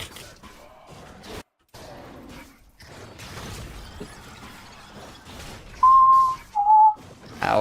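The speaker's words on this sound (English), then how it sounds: "I whistled so loud in my mic that it hurt my own ears." Someone whistles sharply and very loudly into a microphone during a live stream, two short piercing bursts near the end following quieter clicks and noise.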